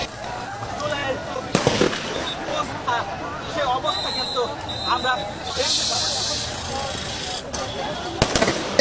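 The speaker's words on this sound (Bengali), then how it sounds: "সেনাবাহিনী গুলি বর্ষণ করছে বিক্ষোভকারীদের দেখে" Sharp cracking army gunfire rings out intermittently over protest crowd commotion and voices, with a couple of sudden loud bangs and a hissing rush in between.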